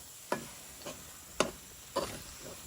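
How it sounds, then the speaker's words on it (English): Saltfish is stirred in a pan, giving four short, close scraping strokes spaced about half a second apart, quiet against a faint background hiss. "One last final stir"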